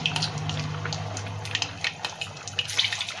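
Cut taro root pieces go into hot oil and set off a broad sizzling hiss, with scattered crackles and pops growing more frequent toward the end.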